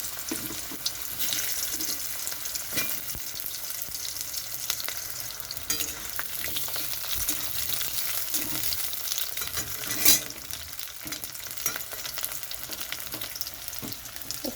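Garlic and onion hit hot oil for a prawn and greens dish, giving a steady, dense sizzle with stirring scrapes throughout and a brief louder burst midway, no voices.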